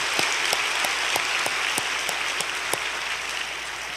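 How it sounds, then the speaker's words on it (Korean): A church congregation at a special early-morning prayer service applauds for the children, a steady sustained wash of clapping with a few sharper individual claps standing out, continuous and fairly close. "우리 아이들을 위해서도 박수 한번 치겠습니다."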